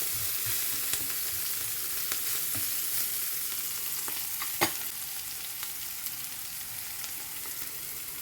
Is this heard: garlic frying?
yes